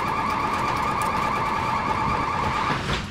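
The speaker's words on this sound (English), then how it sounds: "That's our neighbor's ammonia alarm." Anhydrous ammonia leak alarm at a neighboring site, a continuous loud electronic tone with steady pitched bands, sounding alone without talk for about three seconds.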